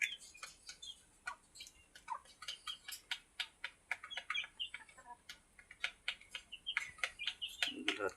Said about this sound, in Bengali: এগুলো হচ্ছে আমার দেশি মোরগ মুরগি,